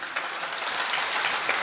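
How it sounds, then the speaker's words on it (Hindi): Audience at a mushaira poetry gathering in Bhiwandi breaks into steady, dense applause, many hands clapping continuously at moderate distance with no voices standing out. "आप उनके लिए एक बार जोरदार ताली बजाएं।"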